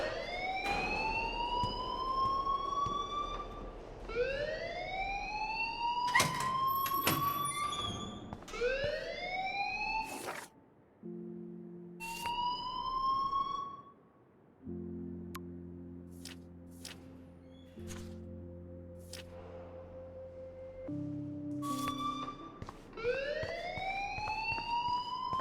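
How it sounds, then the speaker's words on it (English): A fire alarm in the video game Life is Strange sounds in loud rising electronic sweeps, repeating in bursts with short gaps, alongside lower beeping tones midway through. "please turn off that alarm since that's your job"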